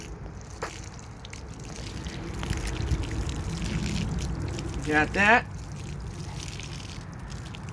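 Water pours and trickles through freshly cleaned rainbow trout beside a lake, a soft splashing rinse that rises in the middle, with brief nearby speech.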